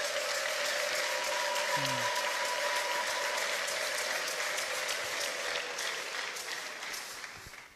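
A church congregation claps and ululates in praise of Jesus, with sustained dense applause and a brief high trilling cry rising through it, all fading gradually toward the end.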